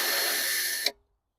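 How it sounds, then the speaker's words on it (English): An IML resistance drill drives a small 3mm bit into a wooden utility pole, giving a steady, fairly loud high-pitched whir for almost a second that cuts off sharply with a brief click, then silence. "we're going to send a little 3mm drill bit into the pole"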